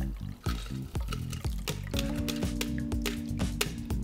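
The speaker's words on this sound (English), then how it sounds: "use your Hawthorn strainer to hold the ice back in the tin and pour through the fine strainer." An Aviation cocktail is poured from a shaker tin through a fine strainer into a glass, with ice held back by a Hawthorne strainer, giving close clinks and taps of ice and metal over a thin liquid pour.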